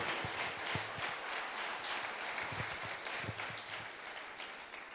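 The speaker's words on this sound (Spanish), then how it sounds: "Le aplaudimos al mejor amigo que tenemos, a Jesús de Nazaret" Church congregation applauding during a Spanish-language service, a fairly faint, steady patter of many hands clapping throughout, with scattered sharper claps standing out.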